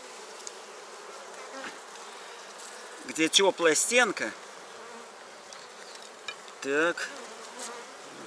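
Honeybees hum close by at an open hive during a spring inspection, a low steady buzz with brief louder swells as bees fly near, while a person speaks quietly a few words.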